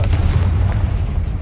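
The Confringo spell explodes in Hogwarts Legacy, a loud, deep rumbling boom that fills the whole moment and slowly fades.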